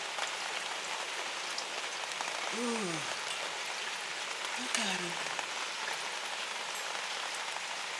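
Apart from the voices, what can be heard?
rain falling outside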